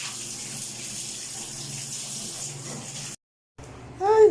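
Water from an electric pump running while Siberian huskies are bathed, a steady hiss of flowing water that cuts out briefly before resuming, with a short voice near the end.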